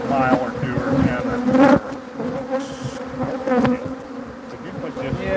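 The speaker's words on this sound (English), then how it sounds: "the bees are so loud, that's all they can hear on the cameras" Aggressive bees swarm around an opened hive with a loud, dense, continuous buzz close to the microphone, and a voice briefly surfaces beneath the drone.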